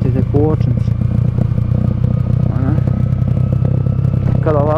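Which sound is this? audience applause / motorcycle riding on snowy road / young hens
motorcycle riding on snowy road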